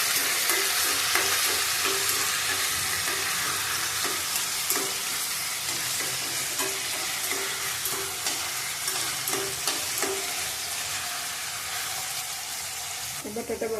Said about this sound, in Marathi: बटाटा तेलात चांगला भाजून घ्यायचा आहे,